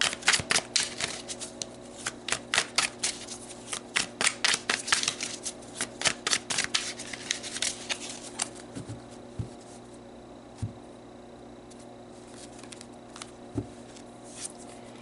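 Tarot cards shuffled by hand, a dense run of crisp riffling flicks in rapid bursts that thin out into a few scattered soft taps, close and fairly loud over a steady low hum, with no talking.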